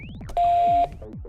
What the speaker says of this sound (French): Le transmetteur émet alors un bip long.